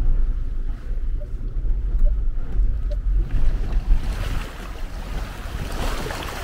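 A Land Rover Defender L663 wades through water on a Welsh mountain trail, with rumbling low engine noise, splashing and sloshing water, and gusts of wind buffeting the microphone; no speech.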